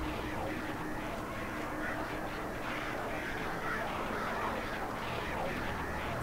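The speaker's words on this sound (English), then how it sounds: "Goddamn birds." Crows caw repeatedly in the video game Alan Wake, harsh calls scattered over a dense, steady ambient backdrop that stays fairly even in level throughout.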